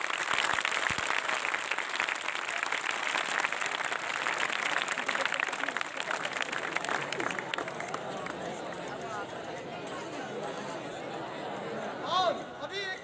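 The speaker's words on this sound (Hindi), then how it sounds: "तालियों की आवाज।" Applause from an audience at a magic tricks performance: dense, steady clapping that gradually thins and softens, with crowd murmur underneath and a few louder claps near the end.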